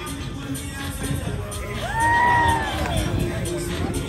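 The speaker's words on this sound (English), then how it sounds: "Give him a round of applause" A festival crowd on the Isle of Wight cheers and whoops for a BMX rider's trick, the noise swelling midway to a loud burst of shouts over steady background babble.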